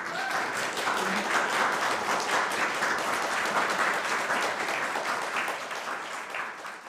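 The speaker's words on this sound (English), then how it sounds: "You got quite an applause there, Tracy." An audience applauds after a poetry reading at an event on Helene Johnson and the Harlem Renaissance, dense clapping swelling and holding, then tapering off slightly toward the end.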